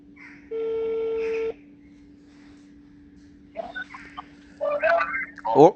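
A steady telephone tone holds for about a second, then a sequence of short dialing beeps follows over a constant low hum.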